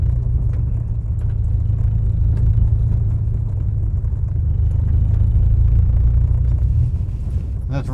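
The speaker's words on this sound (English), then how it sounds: "So that was the Subaru Impreza JDM-spec non-turbo yo" A 1997 Subaru Impreza HX-20S JDM-spec non-turbo driving on the road, a loud, steady low engine drone and road rumble from inside the cabin, with a voice talking over it.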